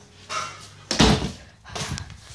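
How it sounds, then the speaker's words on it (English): A door swings shut indoors with one firm thud, preceded by shuffling and followed by faint rustling, with a dog heard in the background of a household room. "I'm gonna close the door"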